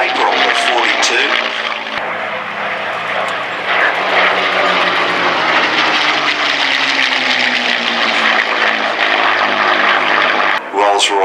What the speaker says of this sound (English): Rolls-Royce licensed Merlin engine.